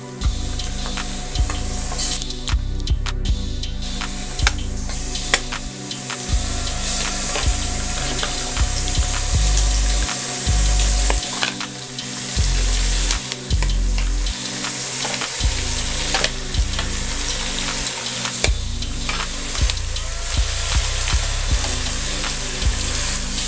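Mutton sizzles and fries in a pot of spiced biryani masala, a loud continuous crackle with stirring clatter throughout and no talk over it.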